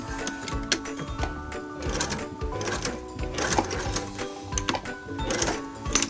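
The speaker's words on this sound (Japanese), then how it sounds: "ということでミシン縫いをご覧いただきながら" A sewing machine stitches a bag remade from a Nagoya obi, running in a close, rapid mechanical rhythm with brief pauses and no talking.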